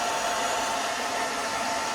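A blow dryer runs while drying hair, a steady, loud, even whoosh of air that holds constant for two seconds with no talking.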